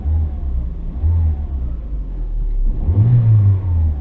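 Renault Clio TCe petrol engine fitted with an E85 ethanol kit, revved in short bursts from idle: two quick rises around the first second, then a longer, stronger rev near the end, close and rumbling.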